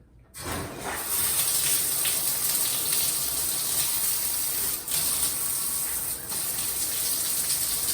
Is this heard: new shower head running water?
yes